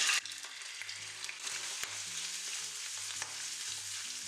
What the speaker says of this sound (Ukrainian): На другу сковорідку наливаю олію, сковорідка гаряча і викладаю печінку